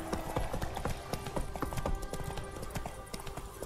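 Horse hooves in The Witcher 3 clop in a quick, steady rhythm of close, crisp thuds that run the whole time, with a faint whinny-like tone beneath.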